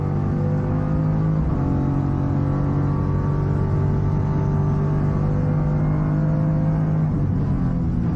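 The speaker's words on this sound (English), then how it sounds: "that's a beautiful V8 sound" A deep, throaty V8 race car engine at Mallala circuit during a Hi-Tec Oils Super Series race holds a steady roar, with a brief dip and pickup as it shifts, loud and close throughout.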